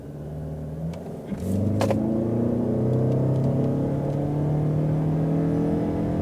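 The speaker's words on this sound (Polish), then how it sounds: "to słychać, że tam pracuje silnik spalinowy" The combustion engine of a Lexus RX 450h+ plug-in hybrid revs up from a low hum into a rising, sustained drone, loud and close, with a whirring tone climbing steadily.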